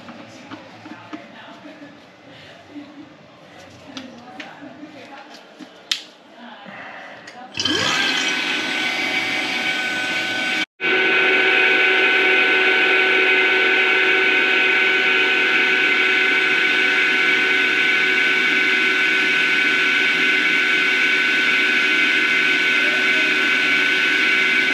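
A quiet mechanical rumble gives way to a loud, steady motor whine of a vacuum pump running continuously, briefly cutting out once, during a refrigeration compressor change-out on an Atosa two-door unit.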